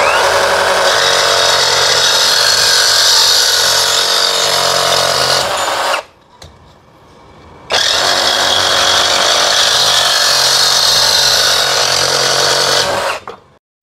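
A DongCheng DCJF32 cordless brushless reciprocating saw cuts loudly and steadily for about six seconds, stops briefly, then runs again for another long, even cut, close and alone.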